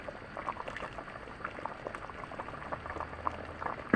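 A pot of meat and potato stew bubbles at a rolling boil, a dense, continuous patter of popping bubbles at steady moderate volume, close up with no talking.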